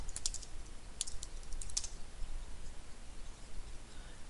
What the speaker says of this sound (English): Type your username password.